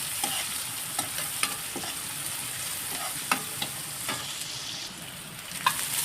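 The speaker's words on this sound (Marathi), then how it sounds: "कढीपत्ता घालायचा आहे आणि मिरची. आता तेलामध्ये फ्राय करून घ्यायचं आहे." Curry leaves and green chillies fry in hot oil with a steady crackling sizzle, broken by occasional sharp pops and light stirring taps. No one speaks.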